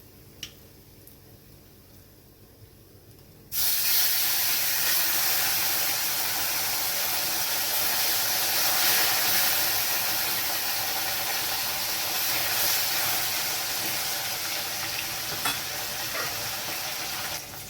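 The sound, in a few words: rohu fish frying in oil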